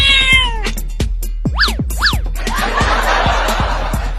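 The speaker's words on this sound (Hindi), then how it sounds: "बिल्ली चल भाग जा यहाँ से, नहीं तो मैं तुझे पीट दूंगा।" A cat meows twice in quick succession, loud and close, with its cries rising and falling, amid other short bursts of sound and dull rhythmic thumps.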